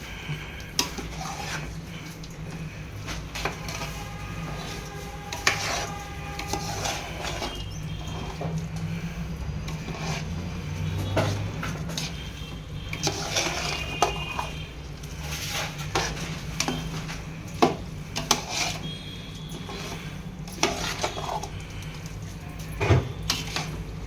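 Rice roasting in masala for a Mandya-style biryani: a steady scraping and clinking of a ladle against the pot as it is stirred, moderately close, with scattered sharper metallic knocks.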